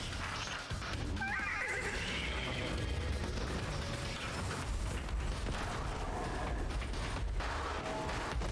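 A horse neighs in the video game Destiny 2, a clear whinny rising over a dense, busy game soundscape with rumbling, mechanical noise throughout.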